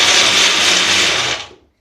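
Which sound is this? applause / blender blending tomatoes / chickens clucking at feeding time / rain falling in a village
blender blending tomatoes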